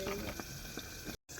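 Live fish crackle and spit in hot oil in a pan, a faint, dense sizzle scattered with small pops that briefly cuts out near the end.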